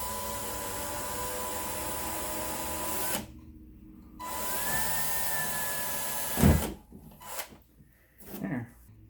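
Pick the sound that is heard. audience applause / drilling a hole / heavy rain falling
drilling a hole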